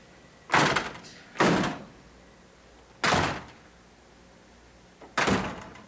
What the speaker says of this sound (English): You hit the button and you let the door close.